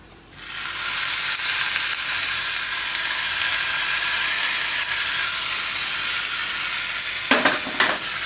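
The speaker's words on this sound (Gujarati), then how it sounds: "આ વઘાર આપણે ચટણી ઉપર નાખી દઈશું." Hot tempering of chillies, curry leaves and asafoetida poured onto cucumber chutney in a home kitchen, giving a loud, steady frying sizzle that starts suddenly and holds throughout, with a few brief clinks near the end.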